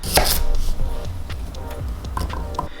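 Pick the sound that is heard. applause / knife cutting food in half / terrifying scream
knife cutting food in half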